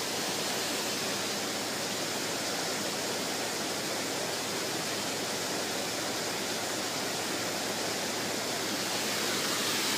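Water rushes through a canal lock on the Shipley to Leeds canal as a loud, unbroken roar that holds steady for the full ten seconds, close by and with no voices over it.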